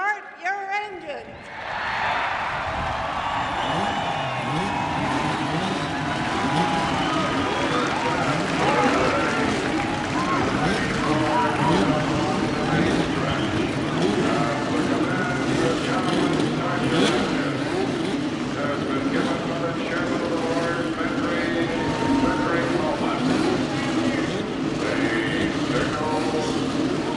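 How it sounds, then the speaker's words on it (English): Indy race cars at the 1985 Indianapolis 500 fire up and roar together after the start command, a loud sustained wall of engine noise with revving swells, heard from the speedway crowd area. "Gentlemen, start your engines."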